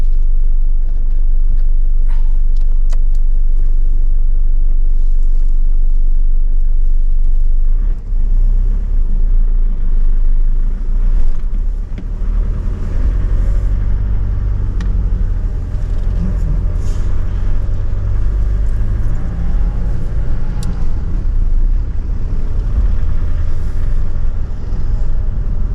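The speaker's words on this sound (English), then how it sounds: "you're driving the truck, which you might drive normally every day" A pickup truck carrying a demountable camper drives along, a steady deep engine rumble and road roar throughout, loud and close from inside the cab, with a slight shift in tone partway through as it changes pace.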